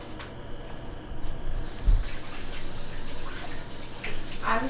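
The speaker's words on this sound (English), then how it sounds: "let me run my knife on the hot water again" Hot water running steadily from a kitchen tap over a knife used to slice ice cream cake, a continuous close hiss and splash with a brief low thump partway through.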